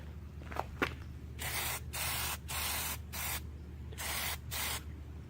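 Plasti Dip aerosol can laying down a coat, with a couple of faint clicks followed by four hissing sprays of about half a second to a second each, separated by brief pauses and fairly quiet overall.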